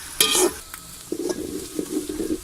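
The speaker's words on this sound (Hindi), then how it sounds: "घी आप अपनी ज़रूरत के मुताबिक डालें और अब मैं इसे फ्राई करूंगी।" Onions frying in ghee in a pan for a village-style shahi kofta, a steady sizzle with scraping stirs, louder bursts at the start and then an even crackle, close up with no talk.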